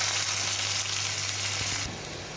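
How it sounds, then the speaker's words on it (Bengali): Chopped onion sizzles in hot oil left from frying fish, seasoned with black cumin, a steady close frying hiss that drops slightly near the end, with no talking. "এরপর দিলাম পেঁয়াজ কোচানো।"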